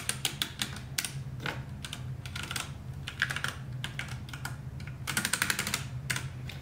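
Fingers type on a Ducky One 2 Mini RGB mechanical keyboard, producing crisp, fairly quiet key clicks in uneven clusters and quick runs, close up with no voices.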